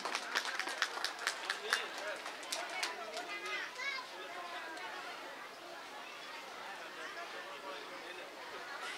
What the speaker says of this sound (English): Please give a clap for them.